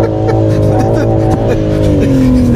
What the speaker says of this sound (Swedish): Det är härligt med bilar som verkligen vrider sig runt sig själv och bara fortsätter att spinna.